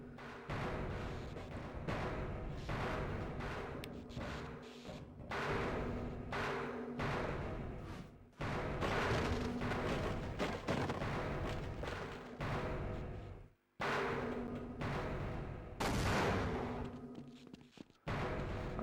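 Repeated rumbling blasts in the PS2 version of Half-Life, a series of dull booms and crackling bursts with brief pauses between them, fairly faint and distant overall, without speech.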